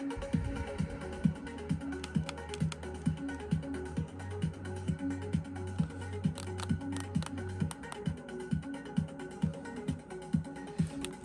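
Rapid, steady clicking of keys being pressed on a mini wireless keyboard with a built-in touchpad, close and fairly quiet, with a low hum running under part of the typing.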